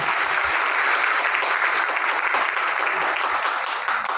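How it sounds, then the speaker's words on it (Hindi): Loud, steady applause from a seminar audience at a resort in Kota, welcoming a speaker onto the stage; thick continuous clapping throughout, easing slightly at the very end. "जोरदार ताली से स्वागत है इनका"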